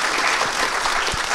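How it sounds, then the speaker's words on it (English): An audience at a live Halloween podcast show breaks into steady applause, a dense, even wash of clapping filling the whole short stretch with no voices standing out. "Round of applause for Audition."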